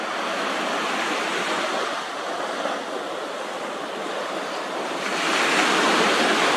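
Steady ocean surf rolls at Cherry Grove Fishing Pier in North Myrtle Beach, South Carolina, a continuous broad wash of breaking waves with wind, swelling slightly louder near the end.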